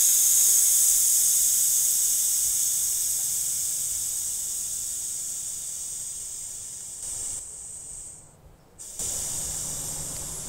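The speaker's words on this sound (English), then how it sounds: "Now there is a purge valve, a pressure release valve here. You can pull it open." A garden pump sprayer's pressure-release purge valve is pulled open, letting out a loud, steady hiss that slowly fades, briefly cuts out, then resumes.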